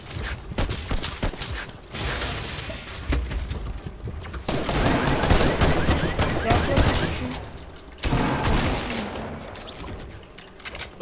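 Repeated gunfire from weapons in a Fortnite Creative match, loud bursts and rapid shots in dense clusters with short gaps, mixed with game noise.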